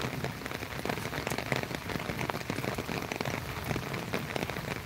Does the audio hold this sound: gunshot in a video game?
no